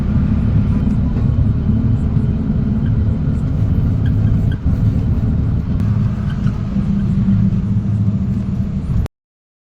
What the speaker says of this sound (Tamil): இந்த வண்டி பார்த்தீங்கன்னா லோடு ஏற்றிட்டு போகிற வண்டிங்க.